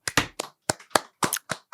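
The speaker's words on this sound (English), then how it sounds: "Clapping." Several people clapping in a small, close burst of about eight sharp, separate claps spread unevenly over a second or two, with no talking.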